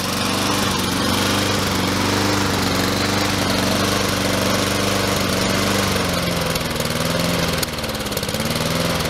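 A Honda small-engine lawn mower runs steadily nearby, a loud and unbroken droning hum that dips slightly near the end, with no talking.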